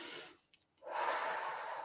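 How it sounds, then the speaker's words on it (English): A deep breath drawn in during a guided relaxation, a long soft airy inhale close to the listener, with a brief pause and then a fuller, louder rush of breath. "Just take another deep breath."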